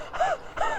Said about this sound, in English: me breathing hard, because I don't think I was even mic'd up